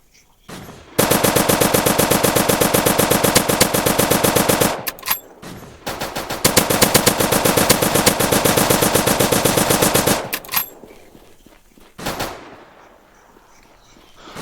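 Sustained automatic gunfire from a machine gun in an online shooter video game, two long, loud rapid-fire bursts of dense repeated shots separated by a brief pause, followed by a few scattered single shots and quieter game ambience.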